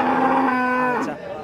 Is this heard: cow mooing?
yes